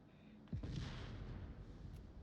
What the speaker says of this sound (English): Another C4 explosion.